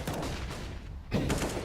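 Rapid gunfire from AK rifles and an AWP in a Counter-Strike match, dense overlapping shots of fairly even loudness with a sharper burst late on.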